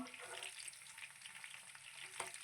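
Gandi fish 65 fries in hot oil with a steady, dense crackling sizzle and occasional stirring scrapes, heard alone at low volume.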